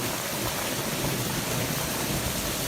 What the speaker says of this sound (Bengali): এই যে বৃষ্টি হয়েছে জোরে এখন আর বরফ পড়ে না